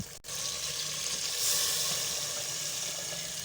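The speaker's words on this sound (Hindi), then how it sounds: "अब इसमें हम पानी शामिल करेंगे।" Water pours steadily into a pot of fried potatoes for aloo gosht, a continuous loud rushing hiss with sizzling after a brief knock at the start, no speech.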